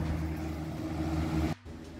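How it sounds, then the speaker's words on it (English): A box fan fitted with an air filter runs indoors in a house, a steady low droning hum with a faint airy wash that briefly dips near the end. "I'm gonna leave that fan running now that I have it set up so that it can actually filter the air here in the house."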